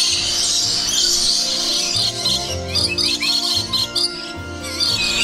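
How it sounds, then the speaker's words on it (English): A dense chorus of many loud birds chirping and calling at once inside a large aviary at Jurong Bird Park, a shrill high-pitched din that fills the whole space continuously with no voices. "They are so loud. That's all birds."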